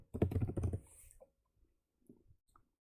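Rapid run of computer keyboard keystrokes entering a Google search, close and crisp, with a dense burst at first, then a few scattered clicks amid quiet.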